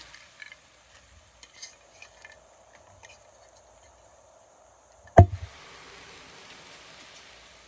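Flat beans are dropped into a pan with chopped garlic, onion and green chili. After a few quiet clinks, a single sharp clatter is followed by a faint, steady sizzle.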